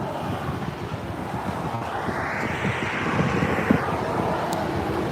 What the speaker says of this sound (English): we have the X-Swoop WestJet 737-800 lining up on runway 24 right